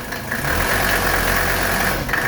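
A 1983 Mercedes 300D diesel engine idles close by, with a loud, steady low rumble and even knocking clatter throughout, no voices.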